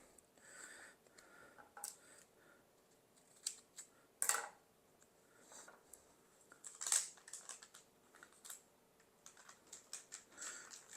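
Tape being pulled and pressed onto a glassine-paper-wrapped oil pastel artwork package makes faint, irregular close-up crackles and short ripping bursts, scattered over several seconds with no talking.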